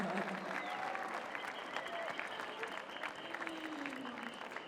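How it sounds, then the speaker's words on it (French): Steady audience applause fills a hall at the World Pastry Cup pastry competition, held at the Paul Bocuse event venue, with dense, continuous clapping and some crowd murmur and voices underneath. "Quelques applaudissements, s'il vous plaît"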